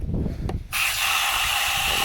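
A hose sprays water onto an abandoned 1985 Mercedes 300CD during hole plugging, bursting on after a short pause into a loud, steady hiss that continues to the end.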